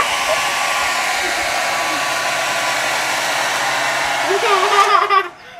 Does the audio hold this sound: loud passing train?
no